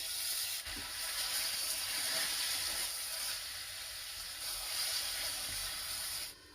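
Faint, steady sizzling hiss of marinated chicken frying in oil with browned onions, continuous and even, with no voices.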